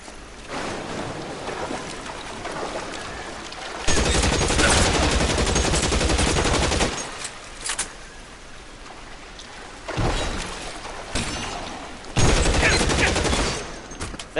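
Gunfire in the L.A. Noire video game: sustained loud bursts of rapid shooting in three long stretches, with a dense rumbling, crackling wash between them.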